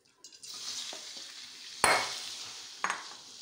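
Boiled grated pumpkin dropped into hot desi ghee for halwa, a few soft taps and then a sharp sizzling burst that settles into a steady fry, with a second stirring clatter and flare later, no voices.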